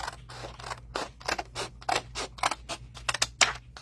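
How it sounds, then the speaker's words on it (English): Scissors cutting paper tags for a papercraft project: a rapid run of crisp snips and blade creaks, close up, with quicker clustered cuts toward the end. "I'm just going to cut some tags."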